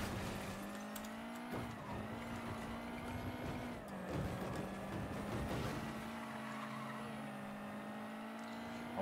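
A Ferrari-like sports car engine in Mafia III idles and revs, a steady droning hum with repeated throttle blips and swells over about nine seconds, fairly quiet and with no talk.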